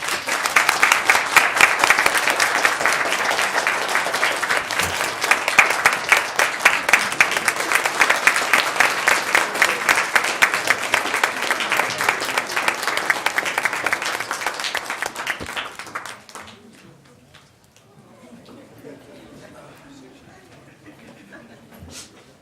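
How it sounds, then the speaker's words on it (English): An audience at a school board meeting gives a long, steady round of applause for about sixteen seconds, then the clapping drops away to quiet room tone and faint movement. "a round of applause"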